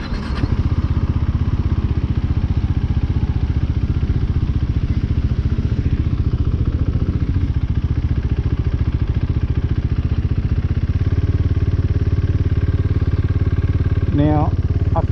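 A KTM 390 Duke motorcycle engine idles roughly, loud and close, with a steady uneven chugging throb that runs nearly the whole time before faltering into a stall near the end.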